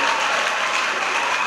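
An audience claps for teachers at a school ceremony honouring the principal, a brief, steady wash of dense applause at full loudness that never lets up.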